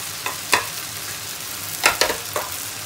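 Moringa pods are stirred as they fry in a pan for a dish with okra and smoked fish. Sharp scraping knocks from the spoon, about five of them, come close over a soft steady sizzle.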